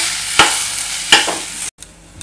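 Mashed potatoes and peas being stirred into onions in a pan: two scraping strokes of a spoon over a soft sizzle, close up, with a short silent break near the end.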